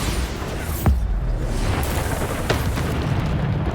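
A Bombarda explosion spell bursts in the Hogwarts Legacy video game, a sharp booming blast followed by a second impact amid continuous roaring, rumbling game noise.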